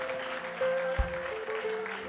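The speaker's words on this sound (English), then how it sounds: "Clap your hands" A worship congregation at a youth and young adult convention claps along during an evening service, the clapping blended under sustained organ or keyboard tones and a reverberant hall mix.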